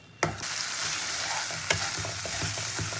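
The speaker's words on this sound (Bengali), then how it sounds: "এবার খুব ভালো করে মশলাটাকে কষিয়ে নিতে হবে।" Ground spice paste frying in oil for a fish curry, a steady close sizzle with a few spatula knocks and scrapes against the pan as it is stirred.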